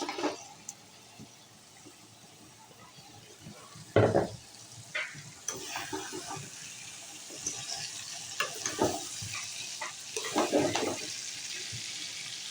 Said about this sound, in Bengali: এখন পেঁয়াজ, রসুন, আদা, মশলাগুলো কষানো হয়ে গেছে